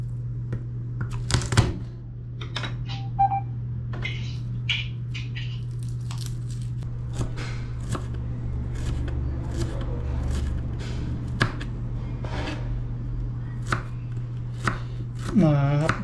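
A knife chops garlic and onion on a board in quick, irregular strokes, with a faint steady hum underneath.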